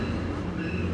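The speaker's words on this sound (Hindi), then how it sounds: "पहले ट्रेन देख लेते हैं।" A train rolls past in Brampton, Canada, making a steady, loud rumble with a low drone from fairly close by, and no clear speech over it.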